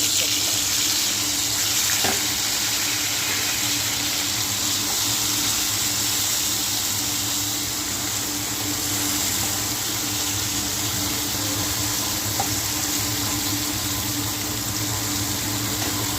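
Fennel seeds crackle in hot oil in a pan, a dense steady frying hiss with faint spluttering throughout, heard close and alone.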